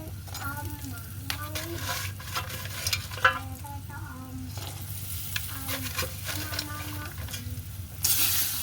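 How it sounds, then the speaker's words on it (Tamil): Fried chicken is stirred into a sizzling ginger-garlic masala in a pan, with steady frying hiss and repeated close scraping strokes, louder sizzle near the end. "இனி நாங்கள் பொரிச்சு எடுத்து வச்சுருக்கிற சிக்கனை இதுக்குள்ளே சேர்க்க போகிறோம்."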